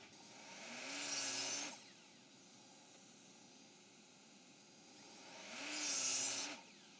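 A miter saw makes a 45-degree cut in scrap wood: two separate bursts, each a whining motor spin-up with the blade's bright scream through the wood, then a winding down, with quiet between them.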